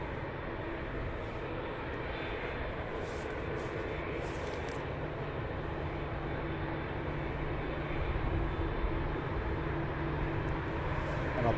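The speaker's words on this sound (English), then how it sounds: "Pan out a little bit so you can see the United taxiing past" A United airliner taxis at Heathrow Airport, a steady broad engine roar with a low hum that holds at an even level and swells slightly toward the end, heard from a distance with no talking.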